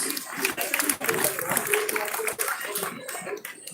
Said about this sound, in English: please give a huge round of applause for all the performers.